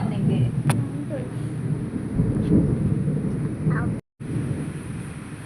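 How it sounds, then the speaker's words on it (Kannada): Low, rolling thunder rumbles steadily throughout, with a brief cutoff near the end; no voices. "ಈ ರೀತಿ ಗುಡುಗು ಬರುವಾಗ ತುಂಬಾನೇ ಹೆದ್ರಿಕೆ ಆಗ್ತದೆ ಜೋರು ಗುಡುಗುತ್ತಾ ಉಂಟು"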